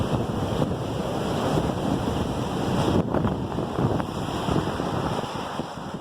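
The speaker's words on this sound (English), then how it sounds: "Another thing you'll see a lot of today is flags which are still at half staff in mourning for the passing of President Bush, just being whipped around like crazy by this wind" Strong storm wind in downtown Seattle buffets the microphone with a steady, loud rushing roar and occasional gusty surges, with no speech.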